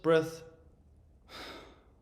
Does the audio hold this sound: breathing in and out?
yes